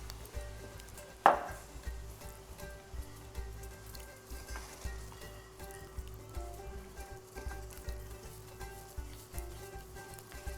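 Quiet, continuous scraping and soft tapping of a utensil stirring milk-based white sauce in a pan, with faint background hum and one sharper knock near the start.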